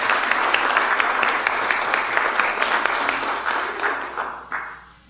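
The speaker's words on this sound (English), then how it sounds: "Let's have a round of applause for the Bolin family." Applause at a Bastrop city council meeting for a local family: steady, dense clapping from a roomful of people that holds for several seconds, then thins out and fades to quiet.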